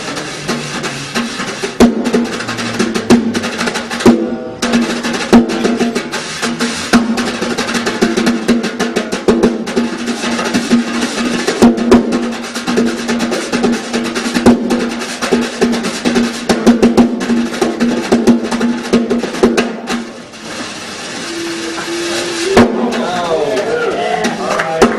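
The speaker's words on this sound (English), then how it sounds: "I would take Sammy Davis Jr. and Sandman Sims and put them together" Fast, continuous tap dancing blending the styles of Sammy Davis Jr. and Sandman Sims, crowded clicks and scrapes over a steady sustained tone, loud and near, with a short pause before a voice cuts in at the end.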